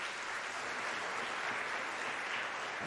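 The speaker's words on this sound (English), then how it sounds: "Please give him another round of applause." Applause from an audience at the Western Cape Prestige Agri Awards, a dense, even roar of many hands clapping that stays steady and fairly close for about three seconds.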